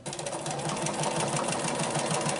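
A sit-down sewing machine stitches continuously during free motion quilting, a close, steady mechanical whir with fast regular needle pulses throughout.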